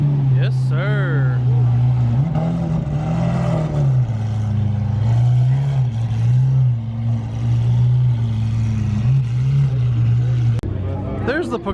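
A Pagani Huayra supercar drones past at a Christmas toy drive car meet, its engine a loud, deep, steady note that rises and falls, with excited voices talking over it.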